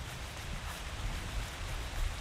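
Steady rain falls in a trailer for Umineko Gold Edition, a soft continuous hiss with low rumbling underneath, even and unbroken throughout.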